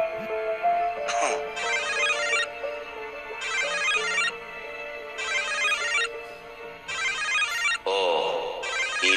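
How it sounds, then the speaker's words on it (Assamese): A phone ringtone signals an incoming call indoors, repeating in a steady cycle of about five bright melodic bursts roughly two seconds apart, loud and close with no talk over it. "এইডালে আকৌ এইটো সময়ত কিয় ফোন কৰিলে"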